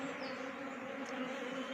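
Honeybees being moved from a cupboard in a cow shed into a hive box give off a steady, close, dense buzzing hum that stays even throughout and carries no speech.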